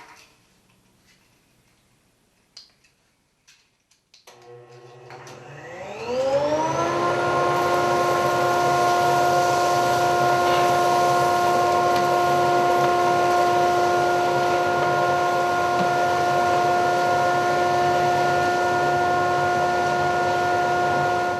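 A homemade workshop dust collector with a separator spins up from quiet, its whine rising in pitch over a couple of seconds, then roars steadily and loudly at full speed with no one talking.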